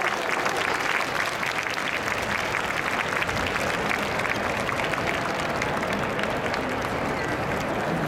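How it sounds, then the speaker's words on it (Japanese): Sustained, even applause from a festival crowd after an Akita Kanto lantern festival stage performance in Tokyo, thick and continuous throughout, with faint voices mixed in. "今一度大きな拍手をお送りください。"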